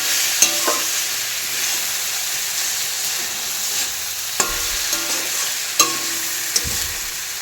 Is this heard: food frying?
yes